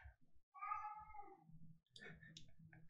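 A house cat meows loudly indoors in drawn-out, wailing cries, with a few shorter yowls and soft clicks following.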